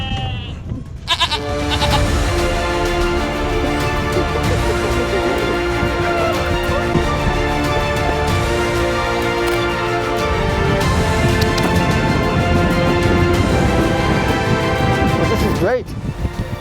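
Goats bleat loudly and almost nonstop on a backyard farm trampoline, their calls crowded together under wind and a voice talking.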